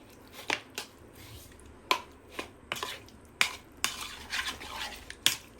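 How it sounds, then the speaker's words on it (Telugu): A spoon mixing chicken pieces with cumin powder, roasted coriander powder, chili powder and salt in a bowl, for chicken popcorn, making sharp clinks and soft scraping strokes at an uneven pace, close up, with no voices. "ఒక స్పూన్ తీసుకొని ఇప్పుడు బాగా మిక్స్ చేసుకుందాం"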